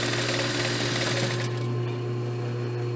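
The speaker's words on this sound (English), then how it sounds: "Then you're going to sew all the way around the top of your pillowcase." A sewing machine runs in a fast, steady hum with a dense stitching rattle as it sews around the top of a pillowcase, close and loud with no talk, easing slightly partway through.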